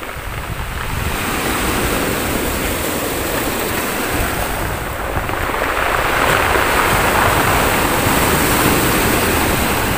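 Sea waves wash in at a bay at Lubayat, a steady, loud surging roar of surf mixed with wind buffeting the microphone, swelling slightly near the end with no voices.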